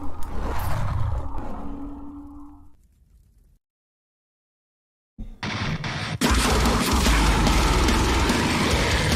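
Heavy metal track with traded guest vocals: a loud roaring, distorted burst, a few seconds of dead silence, then a dense, crushing full-band wall of sound that grows louder toward the end.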